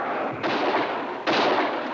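Gunfire in a 1986 TV miniseries battle scene, heard as two heavy, noisy bursts of shooting, loud and dense, the second starting after a brief dip, with no clear talking.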